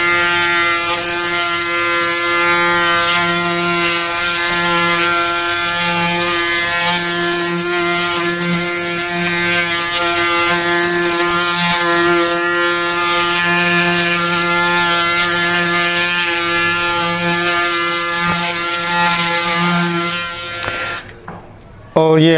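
An electric shaver runs continuously with a loud, close, steady buzzing hum for about twenty seconds, then cuts off abruptly at the end.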